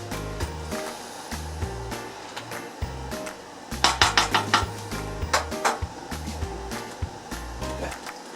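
A spoon scrapes and clinks around a pot of boiling jelly with melting butter, giving a string of quick metallic strokes over a low bubbling rumble, close and moderately loud.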